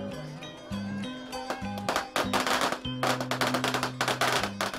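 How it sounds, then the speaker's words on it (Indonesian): Firecrackers go off at a tomato war festival street celebration, loud rapid crackling bursts in quick succession over music with low droning tones. "Petasan dibakar, pertanda perang akan segera dimulai."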